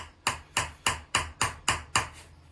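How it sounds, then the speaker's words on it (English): Seven evenly spaced, ringing metallic strikes come from the wide face of a hammer chasing a metal vessel, each one loud and close with a brief decaying ring. "Time to start hammering."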